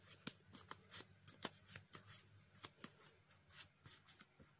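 A deck of Yu-Gi-Oh trading cards being shuffled, quiet and close, with a steady run of soft riffling snaps and short flicks at irregular intervals and no talk over it.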